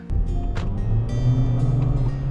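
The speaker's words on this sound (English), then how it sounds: "You hear a lot of engine noise without a proportional increase in speed." A Honda CR-V VX AWD engine drones and strains under hard acceleration, a steady low hum rising slightly in pitch without a matching rise in speed, heard from inside the car with road noise.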